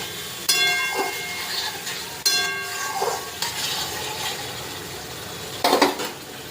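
A metal spatula scrapes and clatters in a pan as boiled taro is stir-fried into spice paste, sharp metallic strikes at irregular intervals over a soft background sizzle, close and distinct with no talking.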